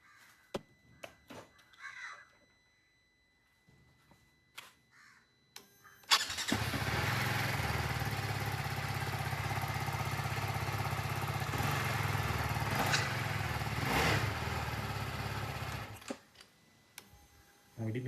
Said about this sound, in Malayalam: നമുക്ക് ടാങ്ക് ജസ്റ്റ് വെച്ചിട്ട് സ്റ്റാർട്ട് ചെയ്ത് നോക്കാം.